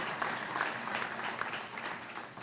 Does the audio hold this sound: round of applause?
yes